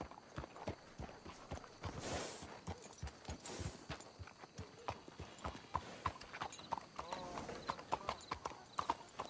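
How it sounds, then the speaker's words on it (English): Horse hooves clip-clop steadily on the ground in Red Dead Redemption 2, a brisk rhythmic walk of close, distinct hoofbeats with a brief whoosh near the start. "Let's hitch the horses up ahead."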